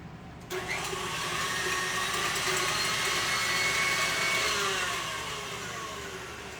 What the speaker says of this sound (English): I like to use the whisk because we want to really get this mushed up and mixed together